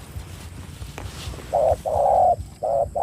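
Spotted dove cooing during decoy dove trapping, a few soft hollow coos rising after a quieter start, with a steady low rumble of background thumping underneath.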